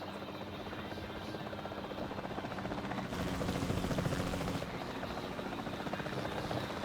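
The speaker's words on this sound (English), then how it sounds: "Then the sensible thing is to take a capture team helicopter." A capture team helicopter in Jurassic World Evolution 2 makes a steady rotor drone that swells louder in the middle, then settles back to a continuous hum, with faint talk underneath.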